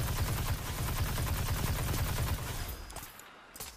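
Rapid, dense gunfire from exotic weapons in Destiny 2 rattles loudly and without a break for about two and a half seconds, then stops abruptly and leaves a faint, quieter tail.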